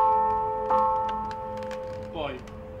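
Large church bell cast in 1714 by the Rolandi founders, rung in the bell tower of Santi Giovanni e Paolo in Rome: a clear struck tone with a long humming decay, then a second softer strike with a wavering ring near the end.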